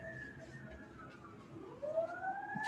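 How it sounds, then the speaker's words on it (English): A fire truck siren wails outside, faint and distant, its pitch rising and falling as it passes, with murmuring room noise underneath. "The sirens are equally as loud on Zoom."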